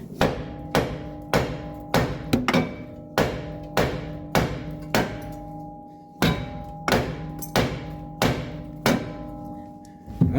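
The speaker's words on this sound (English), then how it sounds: "Alright, hammer time." A hammer pounds on the suspension parts of a 1973 Dodge Dart during a rebuild, about fifteen sharp metallic blows in a steady rhythm with ringing overtones, close and loud with no talk.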